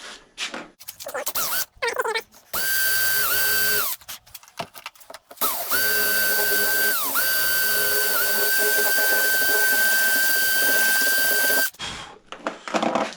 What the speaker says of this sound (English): That sort of marrow in the middle there is quite soft and easy to drill out.